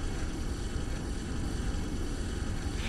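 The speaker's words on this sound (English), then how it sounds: "That's the sound of my sword, or weapon rather, on fire." Flaming weapon burning in the video game Bloodborne, a dense steady crackling roar like a torch fire, loud and continuous across the moment with no talk.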